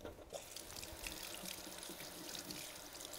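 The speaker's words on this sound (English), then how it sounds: "We're going to rinse them." Water runs and splashes as cleaning brushes from a Spin-Clean record washer are rinsed under a tap into a sink, a steady quiet gush with small drips and no talking.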